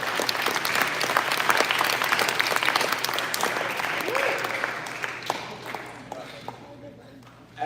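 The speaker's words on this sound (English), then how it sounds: "Give them a round of applause too." Audience at a Maine education transition summit held at an outdoor facility gives a sustained round of applause, dense clapping that tapers toward the end, with voices and a brief call mixed in.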